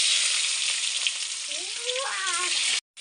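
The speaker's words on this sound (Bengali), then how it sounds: "এখন দেবো পলে নেওয়া পেঁয়াজ।" Onions hit hot oil in a wok for a mutton curry, giving a loud, continuous close-up sizzle with faint stirring, a brief tonal whine midway, and an abrupt cut near the end.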